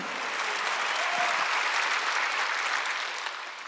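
A church congregation at a Wednesday worship service claps together steadily, a dense, even wash of many hands that holds level and fades slightly at the end.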